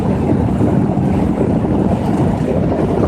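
Steady, loud wind buffeting the microphone with a constant low roar and rumble, no talking.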